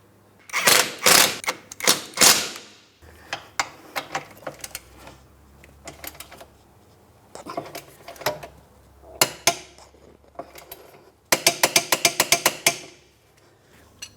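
Ratchet tightening the forward mounting hardware of a new front lower control arm on a 2004-2008 Pontiac Grand Prix: several close bursts of rapid mechanical clicking with pauses between strokes, the fastest run near the end, with no talk.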